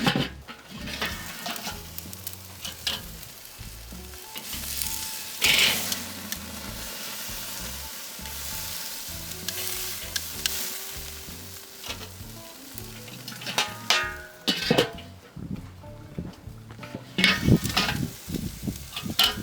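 Cowboy ribeye steaks sizzle steadily on a Weber charcoal grill, a continuous close frying hiss with occasional crackles and a few brief clinks of tools.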